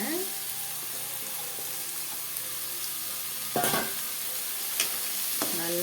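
Chopped bitter gourd sautéing with tomatoes in a pan for kootu, a low continuous sizzle broken by a few loud scraping stirs of a spatula, close by.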